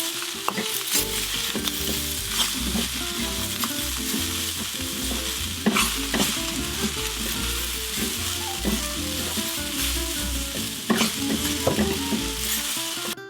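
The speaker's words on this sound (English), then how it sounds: "so we're about 3 minutes into cooking our rice" Ham fried rice sizzling steadily in a hot pan, with a spatula scraping and tossing it in repeated strokes that rise above the constant loud frying hiss.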